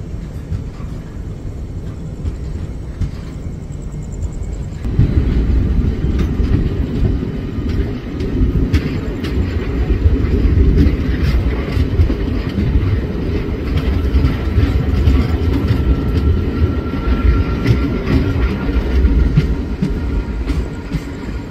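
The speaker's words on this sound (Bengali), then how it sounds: "এই আইসিএফ কোচগুলো না যখন পিক আপ নেয় তখন চাকাতে দেখবেন একটা অদ্ভুত আওয়াজ হয়" ICF passenger coaches on the Jogbani Express pulling away from Shamsi station and picking up speed, giving a continuous rumbling wheel roar with rail clatter that swells louder after a few seconds and carries on steadily.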